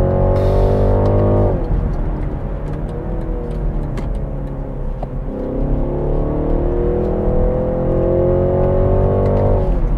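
A BMW 330e Touring plug-in hybrid (G21) accelerates hard and close, its pitch climbing, dropping at a gear change, then climbing steadily again in a smooth, loud drone.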